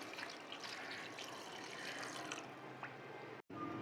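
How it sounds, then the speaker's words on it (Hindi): A little water is poured into a cooking pot holding kaleji (liver), chopped onion, ginger-garlic paste and spices, a faint close trickle and splash that runs a few seconds before cutting off. "और थोड़ा सा पानी ऐड कर देंगे।"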